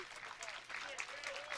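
Crowd applause for a pitcher leaving the field at an ISC World Tournament fastpitch softball game, a steady broadband wash of clapping at moderate distance, with faint voices mixed in underneath.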